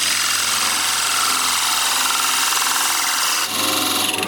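Power drill boring a 50mm hole through metal for an automaton's home, a loud, continuous grinding whine that holds steady for several seconds with a brief dip near the end.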